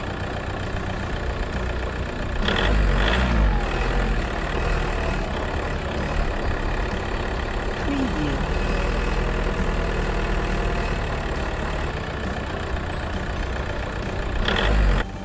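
A vehicle engine starts and runs. A steady idling rumble is interrupted by a couple of louder revving bursts, and a brief higher sound rises near the middle.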